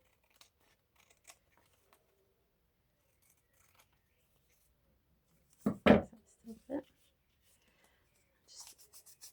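Scissors snip through scraps of paper for a junk journal, a short cluster of crisp close cuts around the middle with faint rustling and handling sounds before and after.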